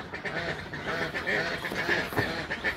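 Several egg-laying ducks on a duck farm quack in a noisy, continuous chorus, close by and fairly loud, with overlapping calls throughout.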